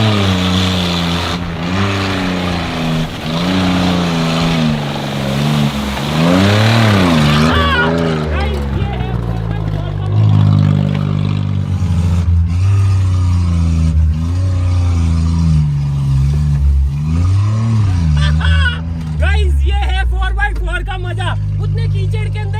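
A 4x4 vehicle with all four wheels driving ploughs through deep mud, its engine droning loudly and steadily with rising and falling revs throughout, while people talk over it.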